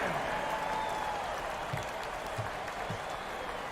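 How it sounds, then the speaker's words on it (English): A basketball crowd applauds in a large arena, a broad, sustained wash of clapping and crowd noise that stays even throughout, with a few faint low thuds underneath. "Please give a big round of applause for the Bucks."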